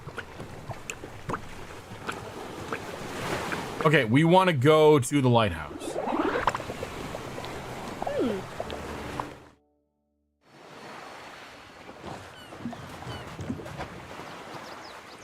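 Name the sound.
boat sailing out to sea in the video game On Your Tail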